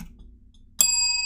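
A bell strikes once with a bright, clear chime after near silence, its metallic tones ringing on and slowly decaying.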